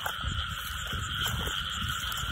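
Field frogs calling at night in wet farmland, a dense steady chorus of croaks and trills close by, with high insect-like buzzing layered over it.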